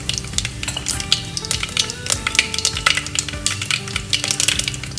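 Asafoetida dropped into hot oil for kadhi, a loud, close crackling sizzle with scraping stir sounds from a pan, continuous and busy with no voices.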